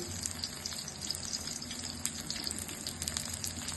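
Bottle gourd flower pakoras coated with sesame fry in hot oil, giving a steady close-up sizzle with crackling, bubbling pops throughout.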